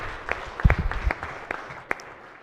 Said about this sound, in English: let's all give Senator Augenstein a big round of applause